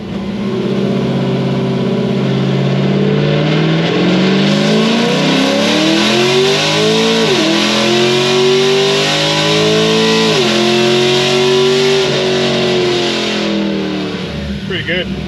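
A car engine roars at full throttle on a dyno during a camshaft horsepower test, revs climbing steadily and dipping briefly at a gear shift as the wheels spin, loud and close, with people talking underneath.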